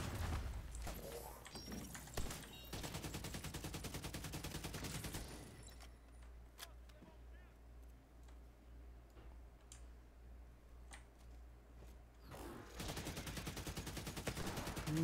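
Rapid automatic gunfire in the shooter The Division 2, a dense rattling stream of shots at the start and end with a quieter gap of scattered single cracks between, no talk.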